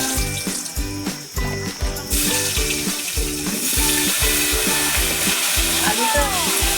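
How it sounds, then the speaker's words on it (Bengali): Potatoes sizzle loudly in hot oil, a constant crackling hiss with occasional stirring scrapes; the sizzle grows brighter partway through. "এবার আলুটা আমি ভেজে নেবো।"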